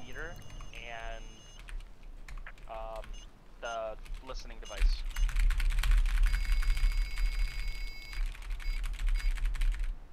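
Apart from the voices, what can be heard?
typing on a computer keyboard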